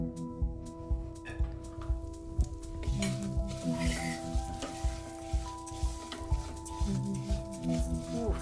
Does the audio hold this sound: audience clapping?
no